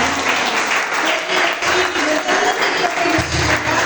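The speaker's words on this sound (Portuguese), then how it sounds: "Pode sentar aplaudindo ao Senhor nesta noite. Com a sua melhor salva de palmas." A church congregation claps for the Lord during an evening worship service, a dense, steady round of applause from a crowd, loud and continuous throughout.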